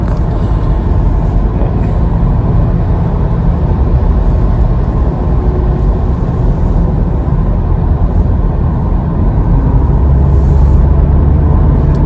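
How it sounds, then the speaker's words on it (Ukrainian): Inside a Skoda Octavia A7 2.0 TDI with a DQ381 gearbox, the car accelerates gently, giving a loud, steady cabin rumble of engine and road noise with no talking. "я легенько даю газу і, і вона починає їхати"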